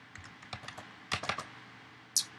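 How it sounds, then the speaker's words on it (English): Sparse keystrokes on a computer keyboard while configuring a Puppet server dashboard: about a dozen close, fairly quiet clicks in short uneven bursts, with a sharper tap near the end and no talking. "Then we're going to type,"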